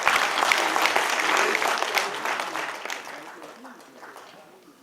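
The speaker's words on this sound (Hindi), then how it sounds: "आ जाओ एक बार इस गब्बर के लिए जोरदार तालियां बजा दीजिए" An audience claps loudly for a performer playing the character Gabbar Singh at a stage show, with dense applause that gradually fades toward the end of the few seconds.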